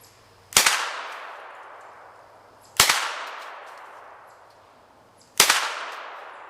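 Three loud, sharp gunshots from a Kel-Tec Sub-2000 at close steel targets, each spaced a few seconds apart and followed by a long ringing metallic decay.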